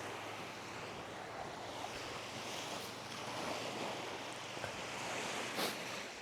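Sea waves on the coast of Malta make a steady broadband wash of surf with wind noise hitting the microphone and a few faint bumps, continuous and without speech.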